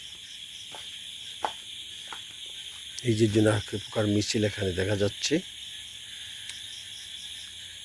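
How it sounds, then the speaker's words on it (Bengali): Crickets and other insects chirr steadily on a monsoon night in open fields, a dense continuous high-pitched drone throughout, with a voice talking over it midway. "চারিদিকে ডাকছে ঝিঝি পোকা, ব্যাঙ, পাখি, বন্য শিয়াল সহ বিভিন্ন ধরনের জীবজন্তু।"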